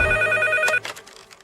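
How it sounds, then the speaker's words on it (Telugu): A telephone rings in a Telugu suspense thriller: a short electronic ring burst lasts under a second and then cuts off, leaving quieter room tones behind. "వెంకట్ ఫోన్."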